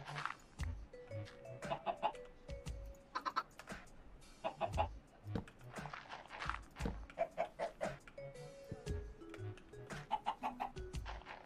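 Chickens in a Minecraft-style survival game clucking repeatedly and close, short irregular clucks throughout, mixed with clicking and tapping sounds from the game.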